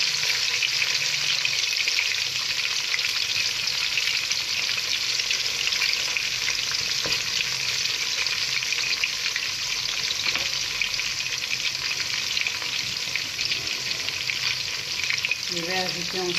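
Onions sizzle in a pan as the base for salted fish with okra, an even, unbroken frying hiss heard up close for the whole stretch with light crackles throughout.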